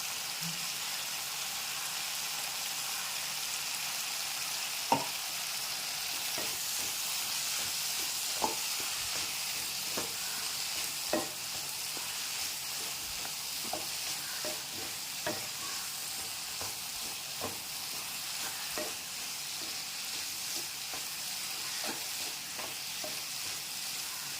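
Vegetables sautéing in a pan, a steady soft hiss of sizzling throughout with faint scattered taps and scrapes of stirring at irregular intervals; fairly quiet, with no talk.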